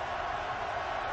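A stadium crowd roars at a Washington college football game against Oregon, a dense, continuous wash of many voices held at a steady loud level throughout.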